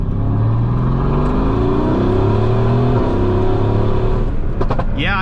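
A turbocharged Mercedes-AMG engine with carbon fiber intakes and big intercoolers revs hard and steadily, its low rising drone loud and close, with a faint whistling rush of turbo spool air near the end.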